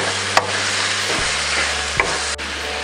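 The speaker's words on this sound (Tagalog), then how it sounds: "Tapos hahaluin lang po natin." Beef with broccoli and mushroom being stirred in a hot pan, a steady close sizzle with a few sharp utensil scrapes and taps against the pan, no talking.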